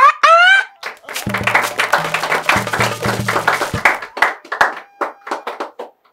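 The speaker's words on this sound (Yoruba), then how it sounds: "Ẹ pàtẹ́wọ́." A studio audience claps and applauds during a Yoruba-language quiz show, a burst of hand claps mixed with a host's voice and scattered talk.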